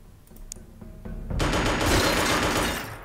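Gunfire in the PC tactical strategy game Xenonauts 2 starts with a few sharp separate shots, then grows into a dense, loud, crackling burst of rapid fire that fades toward the end.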